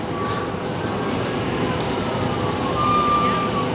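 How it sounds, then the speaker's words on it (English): Emergency vehicle sirens wail faintly in the distance at a South Bend incident scene with fire crews and police present, a thin steady tone over a constant outdoor rumble. "I hear some sirens in the background too."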